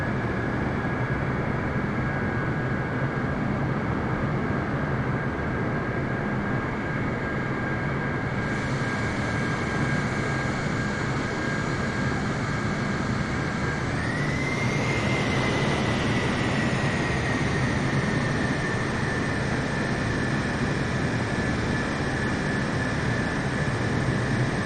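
Inside a Malaysia Airlines Boeing 777 rolling off the runway after landing, a loud steady engine and cabin roar fills the clip, and its high whine shifts upward about two-thirds of the way through.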